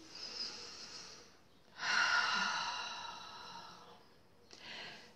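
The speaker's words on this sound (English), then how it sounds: "Take a nice deep breath in." A person draws one slow, deep breath in, close and soft, with lighter breaths before and after. There is no speech.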